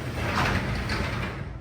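A garage door being pushed open, giving a steady rolling, sliding mechanical rumble that lasts throughout, close and moderately loud with no talk over it.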